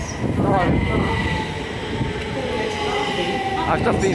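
A c2c passenger train rumbles through a station platform in the London area, loud and close, with wheel squeal and rail clatter as the carriages pass, while a voice speaks faintly underneath.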